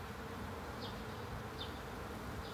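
Agitated honeybees buzz densely and continuously around a hive as a small nucleus colony is moved from a Langstroth hive to a Lens hive, with a few louder bees passing close by.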